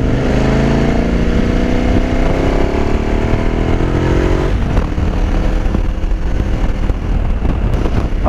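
A new motorcycle's engine runs loudly and up close, with a rising, revving drone that shifts partway through into a rougher, steadier roar. Nobody speaks over it.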